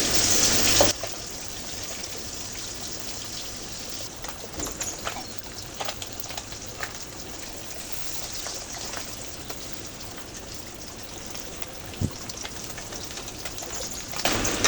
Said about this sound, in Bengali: তো মাছগুলো ভেজে নিচ্ছি মাছগুলো তেমন বেশি নাড়াচাড়া করা যাবে না